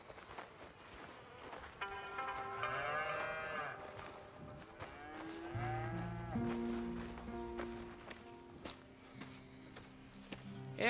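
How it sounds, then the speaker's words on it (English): Cattle moo repeatedly on a ranch in Red Dead Redemption 2, with several drawn-out calls at moderate distance over a steady musical background and faint footsteps. "Here's the cows."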